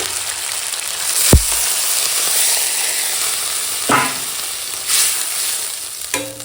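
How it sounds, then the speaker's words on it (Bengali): Vegetables fry with tempering spices in a pan for a palak shaak and bori chorchori, a steady close sizzle broken by a few sharp clinks of a spatula against the pan. "ফোড়ন আর মশলার সঙ্গে সবজিটা বেশ খানিক্ষণ ভেজে নিয়েছি"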